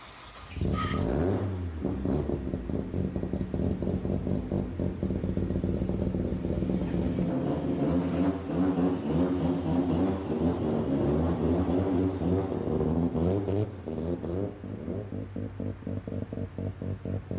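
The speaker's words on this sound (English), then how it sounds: "So here's TJ Hunt's 2-rotor RX-7. This is what this car sounds like at idle." TJ Hunt's two-rotor Mazda RX-7 cranks over and fires up, then settles into a loud, close, lumpy rotary idle that pulses steadily throughout, with a brief blip near the end.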